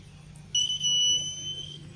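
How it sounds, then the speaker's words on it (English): A face-touch warning device with a gravity sensor sounds a steady two-tone electronic beep for just over a second, bright and fairly close, over a low background hum. "it beeps a sound to remind you that, your hand is getting close to your face"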